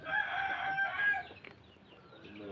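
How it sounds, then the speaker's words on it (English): Chickens clucking with a rooster crowing in a garden enclosure, a bright sustained call in the first second or so followed by softer scattered clucks and background noise. "Chickens."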